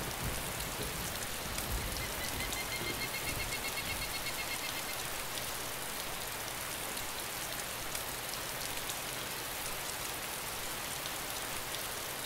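Rain in the video game DayZ falls as a steady, dense hiss that holds at an even level throughout, with no other sounds rising above it.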